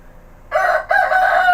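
A single rooster crows in two loud, close bursts following a brief quiet opening, with a short gap between them.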